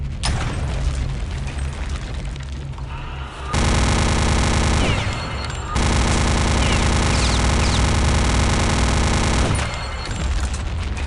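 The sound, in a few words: gunfire in video game Return to Castle Wolfenstein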